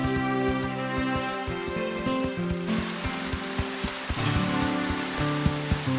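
Heavy rain drums steadily on surfaces near a horse riding arena, a dense continuous patter with scattered louder drops, with no one talking.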